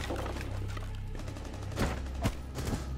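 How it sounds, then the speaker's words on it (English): Gunfire from a Rainbow Six Siege match: a few sharp shots and short bursts cut through a steady low background hum, with the loudest reports near the end, moderately close and without talk. "I heard you shooting at him"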